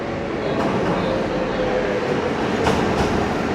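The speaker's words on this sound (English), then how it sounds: "This is basically an underground tram." A small underground tram in Budapest rumbles along steadily, with a continuous close mechanical roar and faint rattling of its two carriages.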